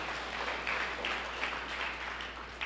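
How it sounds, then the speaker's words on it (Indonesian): Church congregation applauding during a sermon, a steady, moderately loud spread of many hands clapping with light rhythmic accents, continuing for nearly three seconds. "Berikan tepuk tangan yang meriah buat Tuhan."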